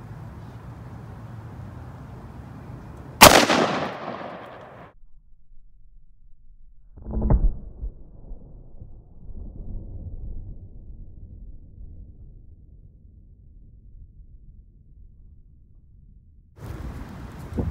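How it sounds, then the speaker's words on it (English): An AR-15 rifle fires a single full metal jacket round at a target board, one loud sharp crack with a trailing decay, followed a few seconds later by a duller thud amid quiet background, no talking. "All right, we're moving on to the AR-15 with a full metal jacket."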